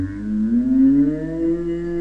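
One long, low moo from a nearby cow, drawn out for about two seconds with a slight rise in pitch.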